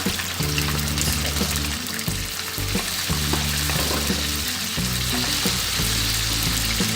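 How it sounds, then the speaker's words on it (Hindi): Chicken frying in a pot for chicken karahi, with garam masala added: a steady, close sizzle hisses continuously under background music with a thumping bass line. "जब हम चिकन फ्राई कर रहे हैं इसमें हम हल्का सा गरम मसाला डालेंगे, पिसा हुआ।"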